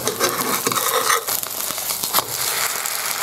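A veggie and rice pancake sizzles loudly in a hot pan as it is flipped, with a scraping clatter of the spatula against metal over continuous bright frying crackle.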